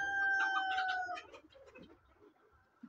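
Chickens on a farm abroad, kept alongside cows and pigeons, give a burst of close, loud clucking and squawking calls, then quieter scattered clucks fade out with a final short cluck.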